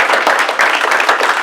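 Short, steady applause from an audience at a community meeting on affordable housing, clapping under a nearby voice.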